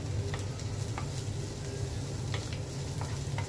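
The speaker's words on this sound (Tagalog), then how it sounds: "igigisa lang po natin yan mga kapatid" Garlic, onion and ginger sautéing in a pan for chicken gizzard adobo, a dense, even sizzle holding steady at close range with faint stirring ticks and no speech.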